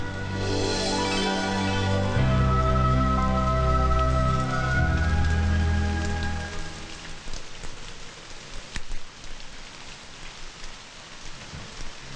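Music with sustained chords plays at first, then fades into a steady patter of rain falling nearby.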